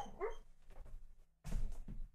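A dog whimpers faintly nearby in brief, soft, whiny bursts separated by short pauses, with no other voices.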